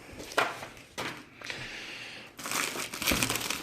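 A plastic bag crinkles and rustles loudly up close as an Electrolux Ultraflex vacuum cleaner attachment is pulled out of it, with irregular crumpling bursts and short pauses between them.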